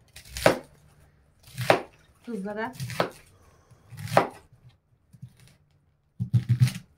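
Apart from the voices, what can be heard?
knife chopping beets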